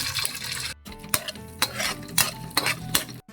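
Eggs cooking in oil in a pan, with crackling frying bursts, utensil clinks and stirring scrapes close up, pausing briefly between strokes.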